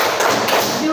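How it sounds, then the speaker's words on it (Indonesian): A classroom of students doing a rhythmic thumb-clap cheer, a brief dense burst of many hands tapping together, with voices mixed in. "Berikan tepuk jempol"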